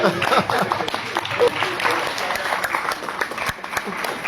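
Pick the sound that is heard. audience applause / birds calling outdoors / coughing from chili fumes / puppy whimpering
audience applause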